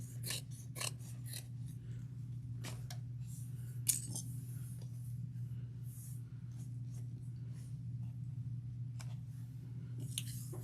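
Scissors trimming fabric for a bag, a series of quiet crisp snips and clicks at irregular intervals over a steady low hum, close up and alone without speech.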